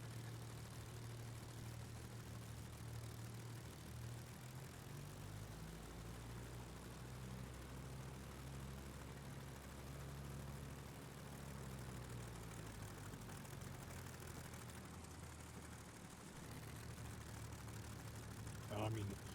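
A propeller aircraft in Microsoft Flight Simulator 2020 circles for a go-around, its engine a steady low droning hum that holds at an even level throughout.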